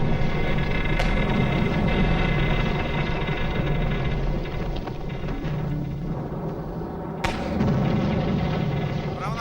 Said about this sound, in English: 3 practice depth charges are intended as an international signal to surface.